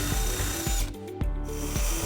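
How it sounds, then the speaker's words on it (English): A power drill with a 7/16 bit whirs at high speed, its motor dipping and surging in short bursts as it works through the metal rear body flange of a 2006 Buick Rendezvous. "we're going to use a 7/16 drill bit"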